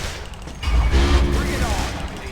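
Rapid gunfire and energy blasts from the video game Metroid Other M on an emulated Wii, dense and continuous over low rumbling game effects, with voices in the mix.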